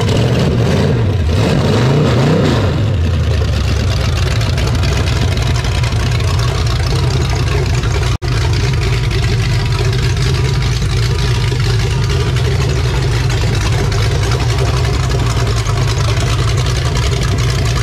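A Ford 427 stroker wedge engine converted to overhead cams runs steadily at a loud, rough idle, heard close and continuous with a brief blip partway through and no voices over it.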